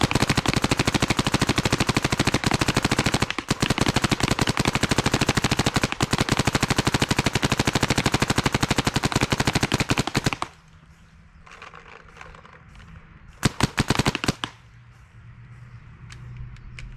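A Planet Eclipse Geo 3.5 paintball marker fires rapidly, a dense, loud, continuous stream of sharp pops for about ten seconds, followed by quieter background and a couple of brief bursts.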